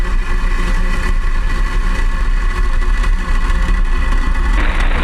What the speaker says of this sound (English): Ignition. Engines full power. And liftoff of Starlink.